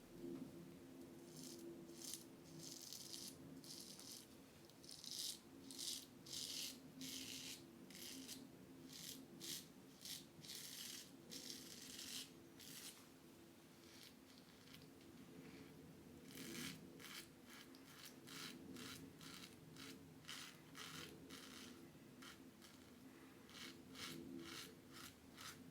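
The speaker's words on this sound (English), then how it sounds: "I did also want you to hear the audio feedback for the against the grain pass" Close-up scratchy rasping of a Blackland Blackbird safety razor shaving against the grain, a steady run of short strokes in quick rhythmic bursts, fairly loud, with no talking.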